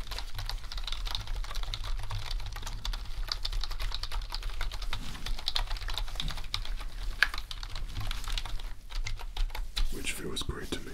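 Fingers press and tap the keys of a dirty computer keyboard during a deep clean, giving a steady stream of close, crisp clicks that runs for the whole stretch, with a voice speaking over them.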